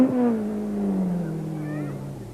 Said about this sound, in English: Sarah is visibly battling with the tight bends and the Ford's high-ratio gearbox